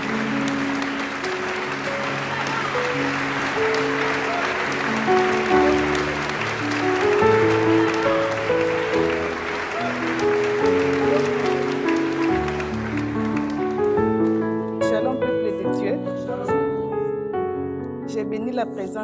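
A church congregation at a Lafayette, Indiana service claps in a sustained round of applause mixed with voices and musical tones. It swells in the middle, then thins out toward the end.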